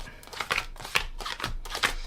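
Tarot cards shuffled by hand close up, a quick run of soft, papery riffles and flicks coming in short rhythmic bursts, with no talking.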